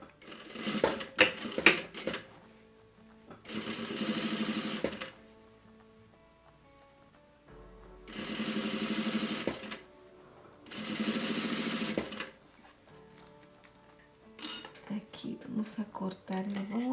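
A sewing machine stitches boning into a corset bodice in three or four sustained bursts of rapid mechanical whirring, separated by quiet pauses with small clicks and handling noises.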